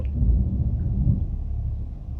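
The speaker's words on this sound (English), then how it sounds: "the thunder rudely interrupted" Low thunder rumble rolling steadily for a couple of seconds, deep and fairly loud, with no speech over it.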